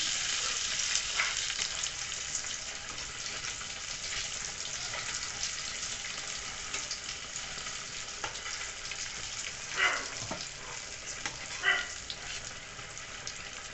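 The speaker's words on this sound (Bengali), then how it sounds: "এদিকটাও এইভাবে লাল করে ভেজে নেবো আমি" Brinjal slices shallow-frying in oil for begun vaja, a steady close sizzle and crackle that runs throughout, with a few louder bubbling pops near the end.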